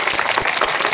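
Students applaud a guest at a school's annual sports day. The clapping is dense and continuous, a steady crowd wash at fairly high volume.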